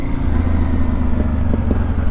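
A Honda Transalp XL 600 V PD06 motorcycle with a GPR aftermarket exhaust runs at a steady, loud, close rumble, with a few faint pops over the continuous engine note and no talk.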